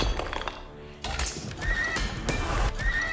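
Horses in the video game Age of Empires IV: a close, loud neigh and whinny rise over clip-clopping hooves and battle clatter, with a second shrill whinny near the end and faint game voices mixed in.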